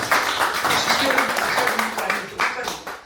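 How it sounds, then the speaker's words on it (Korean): An audience applauds at an intangible cultural heritage seminar at Bucheon Cultural Center, a steady wash of clapping mixed with voices talking throughout. "박수 한번 부탁드립니다"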